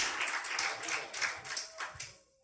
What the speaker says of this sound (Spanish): Dale ese aplauso al que vive por los siglos de los siglos